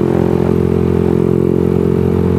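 A motorcycle ridden through city streets at night, its steady engine drone loud and continuous throughout with no pauses or speech.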